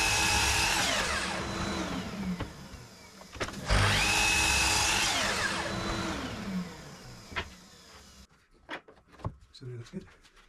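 A power drill with a drill block bores 5mm holes into the ends of wooden stool rails clamped to a workbench apron, two loud sustained whining runs of drilling with rising and falling pitch, then quieter clunks and taps as the bit stops.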